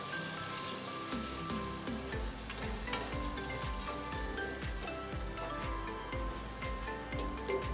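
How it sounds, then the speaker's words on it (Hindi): A spoon keeps stirring sweet rice after milk has gone into the pan, giving a soft steady sizzle with a quick repeated scrape of the spoon across the pan, close and with no voices. "चम्मच चलाते रहें।"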